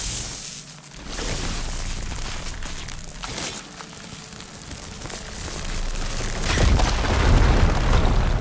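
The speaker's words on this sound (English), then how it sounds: "Now that I have the igniter, I can get rid of that fire gleam" A firegleam deposit blown apart with an igniter in Horizon Forbidden West, giving a deep rumbling boom that swells near the end amid crackling debris and ambient game sound.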